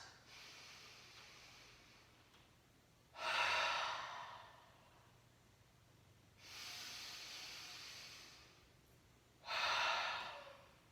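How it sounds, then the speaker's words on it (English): Three long, deep exhaled breaths during a breathing exercise, each a soft, airy rush lasting about a second, spaced a few seconds apart, close and quiet against near silence. "On that out breath, we will make sure we breathe all of our air out."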